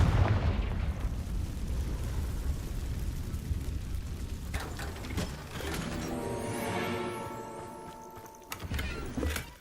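A Confringo blasting spell goes off in Hogwarts Legacy: a rumbling explosive boom that swells and rolls on, then gives way to clanking, mechanical game sounds and a final short burst.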